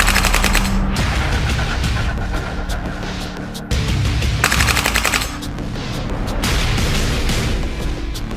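A GHK KAC PDW gas blowback airsoft rifle firing 0.25 gram BBs over a chronograph, heard as loud, dense rapid-fire bursts that run almost continuously with brief breaks, close and harsh.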